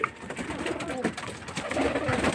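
Racing pigeons coo softly nearby in a derby loft setting, a low rhythmic burbling with faint background noise and no talk.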